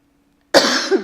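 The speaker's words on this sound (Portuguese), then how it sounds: "Eu peço desculpa, mas estou com tosse." A single sharp cough bursts out close by after a moment of silence, trailing into a brief rasp.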